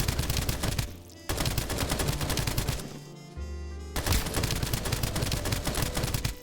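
An AK rifle fires in the extraction shooter game Duck. Duck. Extract., loud rapid automatic bursts rattling close up, with one short break before the firing resumes.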